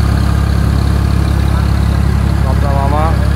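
A boat engine drones steadily as the boat departs for a village deity's homecoming festival, a continuous low hum with talk and background voices over it.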